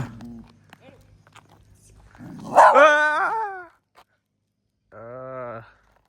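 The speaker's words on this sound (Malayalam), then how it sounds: "ഈ പട്ടികളല്ലോ." A dog barks and yelps loudly in a few sharp bursts, with quiet shuffling and faint activity before the calls.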